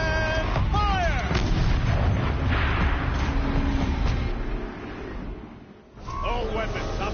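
A tank cannon in a video game fires with a loud, booming blast and rumbling echo, followed by heavy mechanical whirring and a second clanking shot, all under intermittent voices.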